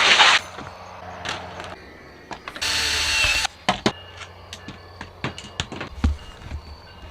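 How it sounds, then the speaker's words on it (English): A power drill runs in a short whirring burst, and then comes a string of sharp clicks and knocks as camping gear is fitted on a Toyota Tacoma; nobody speaks. "Senor Drill, let's go at it."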